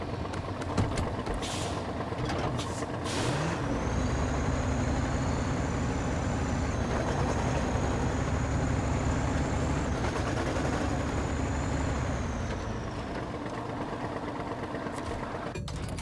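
A heavy truck in the off-road driving game SnowRunner idles with a low, steady engine rumble, while a high mechanical whine holds for several seconds and short bursts of air brake hiss come through, all fairly close.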